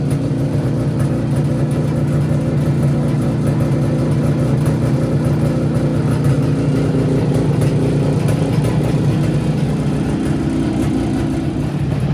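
Izh Jupiter motorcycle engine running after carburetor tuning, a continuous, loud, close-up mechanical drone with an even, unbroken running tone and no speech over it.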